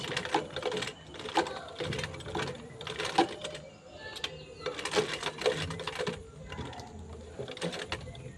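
A sewing machine back stitching while making a bag, its needle clattering in uneven bursts of rapid mechanical chatter with short pauses between runs, close and moderately quiet, with no speech.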